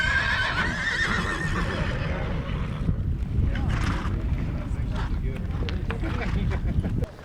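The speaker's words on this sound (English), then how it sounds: "The horses come charging out of the big holding corral" Horses whinny loudly over a rumble of hooves and wind buffeting the microphone as a herd charges out of a large holding corral at the start of a horse drive, with a voice talking over it.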